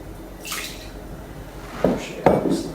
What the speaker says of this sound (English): we'll just add a little bit of water. I've got some nice creek water